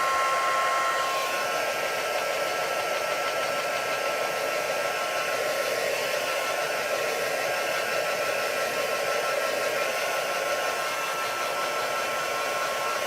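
A blow dryer runs steadily and loudly for the whole stretch, drying a small, concentrated wet puddle. Its breathy whoosh is close and continuous, with no talking over it.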